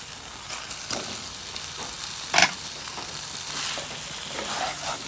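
Pre-fried potatoes are tossed into a salted spice mix in a pan for a Bengali rui fish curry, giving a constant close sizzle with light stirring scrapes and one brief louder clatter.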